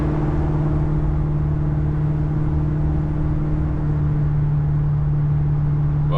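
A 1974 Ford Galaxie's engine drones steadily while driving, a loud continuous hum with strong low tones and road noise, unbroken and close with no talking.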